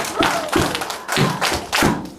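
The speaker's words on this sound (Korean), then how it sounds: "박수! 여섯 번 시작!" Children clap together in a church Sunday school room, about six loud, evenly spaced claps with sharp taps and thuds in a regular rhythm.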